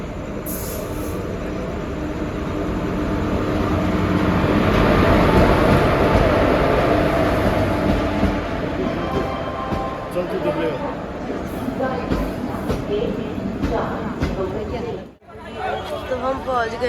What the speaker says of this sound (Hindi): तो फ्रेंड्स, हमारी ट्रेन आ चुकी है।